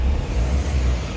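Ford EcoSport diesel engine idling after repair work, a steady, loud, close low-pitched rumble with no breaks.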